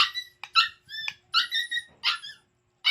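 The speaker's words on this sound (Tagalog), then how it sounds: "Yung asong laging tahol ng tahol at makulit" A small dog barks in quick, high-pitched yips and squeaky yelps, close by, in a rapid uneven series with brief gaps.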